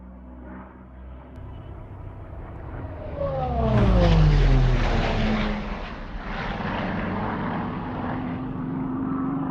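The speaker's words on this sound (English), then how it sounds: "that plane that flies over the deck of the ship" A propeller airplane flies low over a ship's deck, built as a sound-design pass: a distant drone swells into a loud, close roar with a falling pitch sweep, then fades to a steady rumbling hum.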